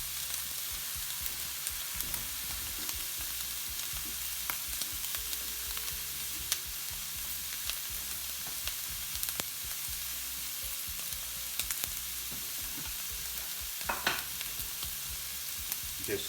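A steak fries in a hot pan with a continuous close sizzle, dotted with irregular crackles and pops and occasional louder spits, with no talking.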